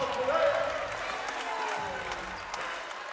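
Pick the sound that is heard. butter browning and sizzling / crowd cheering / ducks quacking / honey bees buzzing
crowd cheering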